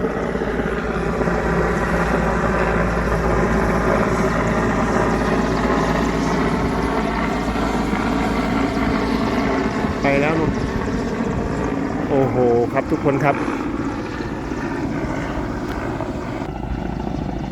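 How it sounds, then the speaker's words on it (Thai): Two helicopters, one orange and one black, drop water on a forest fire at Khao Wang Li, their rotor drone loud and steady throughout, with someone talking nearby. "นี่ครับทุกคนครับ เฮลิคอปเตอร์นะ วันนี้สองลำนะครับ"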